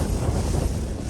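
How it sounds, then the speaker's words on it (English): Strong wind gusts buffet a Hilleberg Soulo tent at a summit camp on Creag nan Gabhar, a loud, continuous roaring rush of wind against the fabric, close and steady, with no voices. "a massive gust of wind like buffets the tent on top of the already big,"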